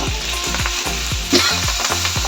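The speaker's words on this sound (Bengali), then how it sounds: "মাছগুলো উল্টে পাল্টে ঢাকা দিয়ে ভালো করে দুপিঠ ভেজে নেব।" Banana-leaf parcels of bhetki fish frying in a pan give a loud, close, crackling sizzle that runs unbroken over a steady pulsing low beat.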